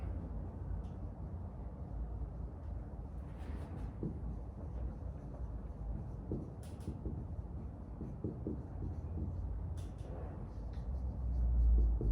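Someone writes out a fraction subtraction by hand, and faint scratching strokes come and go over a steady low room hum for several seconds with no talking.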